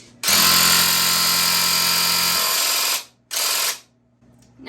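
A clogged paint sprayer sputters while spraying into a bucket: a loud, harsh mechanical rattling burst runs for about three seconds, stops, then a shorter second burst follows before fading to quiet hum.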